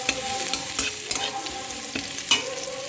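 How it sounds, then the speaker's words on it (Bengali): Crushed garlic and chilli for dal are stirred in a pan, giving a soft continuous sizzle broken by a few sharp scraping strokes of the spoon, close and alone. "আর একটু রসুন লঙ্কা থেতো করে রেখেছিলাম ডালে দেওয়ার জন্য, সেইটা আমি আবার নেড়ে দেবো"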